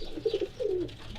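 Pigeons in a loft give two soft, throaty coos in quick succession, close by and fairly quiet against a faint background.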